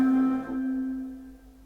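A brief snippet from Enya's "Boudica" sounds alone: one bright, sustained synth tone with a soft breathy shimmer above it, fading out over about a second and a half.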